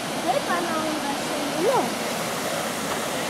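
A river flows beneath an arched bridge in Kobuleti, giving a steady, even rush of water throughout, with faint voices drifting in the background.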